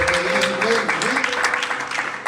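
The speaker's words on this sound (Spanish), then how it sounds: "Dense un aplauso a ustedes mismos" A church congregation applauds itself during a sermon, a busy wash of clapping hands heard with voices talking and calling out over it, steady throughout.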